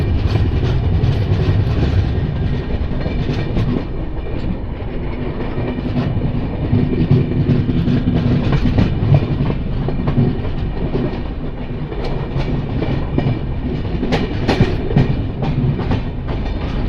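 The Tirumala Express passenger train, number 18522 running from Guntakal to Visakhapatnam, rolls along the rails with a loud, continuous rumble and rhythmic clickety-clack heard from on board, steady and close, with no talk.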